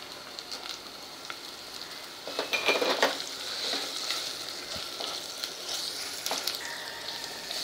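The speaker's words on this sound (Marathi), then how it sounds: "हा मसाला आपल्याला 1 मिनिटभर तेलात छान परतवायचा आहे" Raw masala and coriander-cumin powder fry in oil for a field bean curry, a soft steady sizzle with crackling bursts and occasional stirring scrapes, fairly quiet and close.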